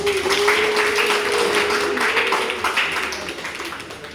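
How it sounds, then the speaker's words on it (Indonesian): A crowd at a speech competition claps for a contestant, a steady medium-loud patter that thins a little near the end, with a faint sustained voice or tone running underneath. "Mana nih tepuk tangannya?"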